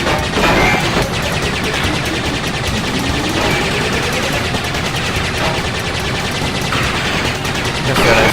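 Continuous gunfire in a Crash Bandicoot Warped boss fight against N. Gin, a loud dense stream of rapid shots and impacts lasting throughout, with plasma-ball attacks and clanks mixed in.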